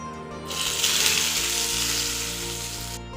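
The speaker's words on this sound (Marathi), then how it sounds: "त्यामध्ये मोहरी, जिरे आणि हे दोन्ही पण छान असं तडतडल्यानंतर कढीपत्ता घातला" A steady, hissing sizzle of mustard and cumin seeds crackling in hot oil for a coconut chutney tempering starts abruptly and runs loud and close for a few seconds before cutting off.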